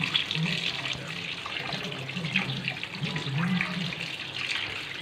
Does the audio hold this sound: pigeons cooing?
no